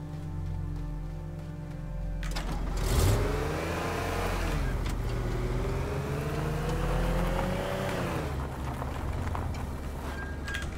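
Small Jeep driven in the Teardown video game, a continuous engine drone that rises and shifts in pitch as it revs, with a couple of sharp clunks, loud and steady throughout.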